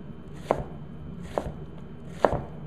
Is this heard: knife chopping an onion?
yes